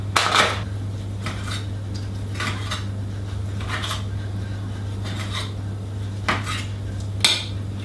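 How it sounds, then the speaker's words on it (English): Pork steaks being sliced for hog roast parcels in a kitchen: a handful of short, crisp scraping strokes spaced across several seconds over a steady low hum, with no talking. "So we're going to use some steaks, we're going to slice them up and we're going to get them in the pan."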